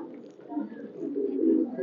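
Benaras pigeons on a pigeon farm give soft, low, rolling coos, several overlapping murmurs heard close and swelling slightly toward the end.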